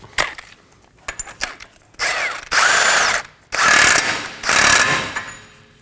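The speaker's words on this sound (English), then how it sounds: "Now we're going to snug it down using our 32mm socket." A ratchet fitted with a 32mm socket snugs down the front CV axle nut on a 2015-2023 Nissan Maxima 3.5L V6, giving a few short clicks and then three long, loud, rapid ratcheting bursts up close.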